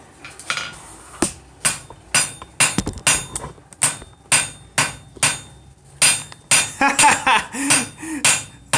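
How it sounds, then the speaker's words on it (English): A hammer strikes hot metal at a forge, ringing out in a steady series of about fifteen sharp, loud, close blows, roughly two each second, with no talking. "Just remember, Jess, hit it like it owes you money."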